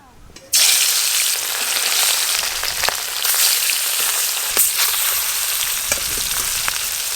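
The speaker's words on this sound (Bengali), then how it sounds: "মাছগুলো এবার ভেজে নেব।" Rohu fish pieces dropped into hot mustard oil, sizzling suddenly erupting loud and close, then holding a dense, steady frying hiss with scattered pops.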